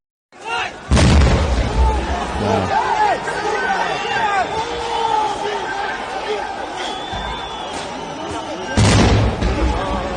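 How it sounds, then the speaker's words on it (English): Stun grenades burst with heavy booms near a Kazakhstan government building during a protest, one blast near the start and another near the end, over a noisy crowd shouting and chattering in between. "Let's watch the grenades going off near the Kazakhstan government building here."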